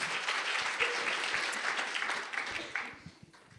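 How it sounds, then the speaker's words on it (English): Audience applause for a panelist at a workplace panel discussion, steady dense clapping from a room of people that holds strong and then thins out toward the end. "Yeah, round of applause."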